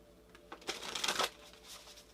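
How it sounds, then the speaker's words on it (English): Tarot cards are shuffled close by in a quick riffling burst, a soft papery flutter that rises and then fades, with no talking over it. "I'm going to take a few more cards, like I did for the other piles."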